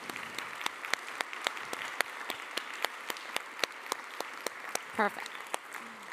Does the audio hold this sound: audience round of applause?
yes